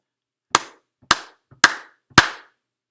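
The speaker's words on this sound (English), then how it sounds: "Clap, clap, clap," Four single hand claps spaced about half a second apart, each a crisp, close, loud slap in a steady beat with silence between them.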